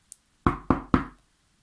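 Three firm knocks on a wooden door, close and loud, evenly spaced after a brief faint tick, each rap ringing out a little before the next.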